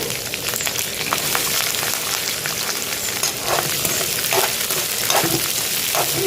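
A tempering of ginger, green chillies and chopped onion fries steadily in hot oil for hotel-style upma, a dense close sizzle running throughout with occasional stirring clicks and scrapes.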